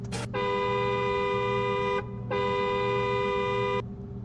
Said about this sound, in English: It's probably a boat horn.